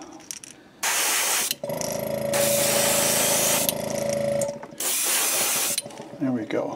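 Three long hissing bursts of spray paint hit a 2.5 red craw fishing lure, each a loud, steady airbrush-like spray with short quiet gaps between them.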